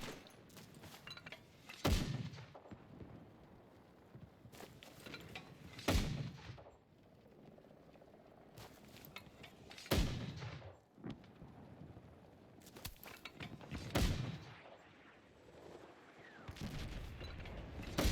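Mortar fire in a multiplayer military video game: a series of heavy, booming explosions at irregular intervals, some loud and close, others more distant, over a low rumbling battlefield background.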